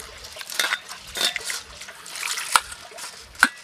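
Red lentils are washed by hand in a separate bowl of water, with soft sloshing and splashing, a few clinks against the bowl and two sharper knocks near the end, all fairly quiet and close with no voices.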